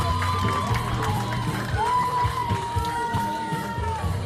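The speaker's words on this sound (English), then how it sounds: "Continue clapping for Maria." A commencement audience cheers and whoops for a graduate, a steady crowd roar with shouts rising above it throughout, while a voice talks faintly underneath.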